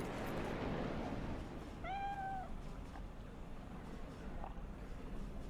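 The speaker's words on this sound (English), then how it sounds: "Beautiful cat." A cat meows once, briefly and clearly, in the Cyberpunk 2077 video game, rising above a constant hum of background noise.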